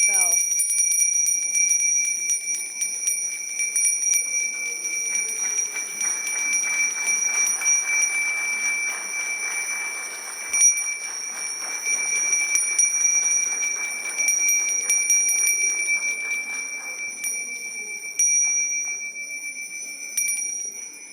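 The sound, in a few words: many small hand bells rung together at a summit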